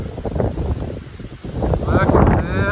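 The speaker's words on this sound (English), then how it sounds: "Holy smokes, that wind just knocked me back" A strong gust of wind buffets the microphone on a mountain section of the Appalachian Trail in Virginia, a loud roaring rumble that swells toward the end, with a voice speaking under it.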